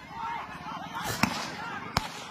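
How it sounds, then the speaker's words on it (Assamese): Blank gunshots fired during an eviction crack out as two sharp, loud bangs less than a second apart, over a backdrop of crowd noise and voices talking. "হেৰা পাব্লিক সব ফায়াৰিং কৰি আছে, ফাঁকা গুলি মাৰি আছে"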